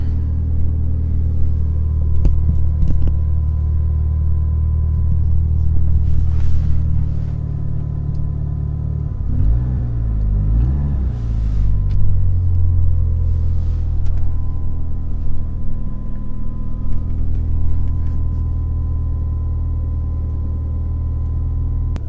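Car engine inside the cabin after Kilmat sound-dampening insulation, a steady muffled low rumble that swells midway as revs rise, close and continuous with no talking.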